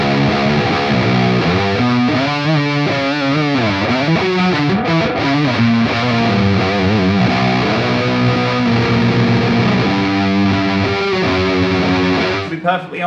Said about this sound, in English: you get a hot-rodded, more modern, angry sound when it's pulled up